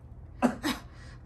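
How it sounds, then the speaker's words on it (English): Several short, sharp coughs, three or four separate bursts close to the microphone, with quiet low hum in between and no talking. "cough"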